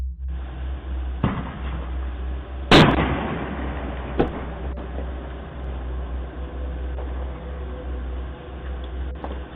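Firecrackers go off on a home porch and set a fire there, picked up by a doorbell camera: a few sharp, scattered bangs, one louder crack near the middle, over a steady low hum of outdoor noise.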